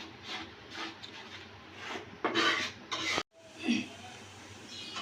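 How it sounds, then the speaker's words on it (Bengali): Cumin, coriander and garam masala spices being stir-fried in a pan while cooking rohu fish roe, with steady scraping and rubbing of a spatula against the pan, louder bursts midway, a brief drop to near silence, then more stirring. "এখন আমি মশলাগুলোকে ভালোভাবে কিছুক্ষণ কষিয়ে নেব"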